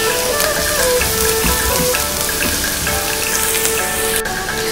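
Garlic frying in a pan while cooking suman sa ibos, a dense crackling sizzle like light rain that runs continuously at close range and fairly loud, with no talking.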